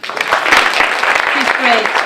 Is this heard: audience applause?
yes